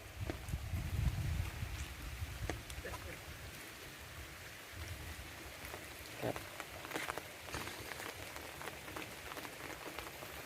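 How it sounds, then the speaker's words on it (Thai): Rain falls over rice fields in a steady, soft patter with scattered drop ticks, faint and continuous, with a low rumble early on. "บรรยากาศฝนตกครับ"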